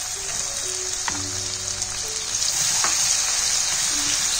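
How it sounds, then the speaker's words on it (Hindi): Onions and cumin seeds fry in hot oil for a cheese-stuffed tomato gravy, giving a steady, close sizzle with a few faint clinks and soft stirring, growing slightly louder toward the end. "जीरा डाल देंगे 1 टेबल स्पून, जीरा क्रैकल हो गया, थोड़े से प्याज"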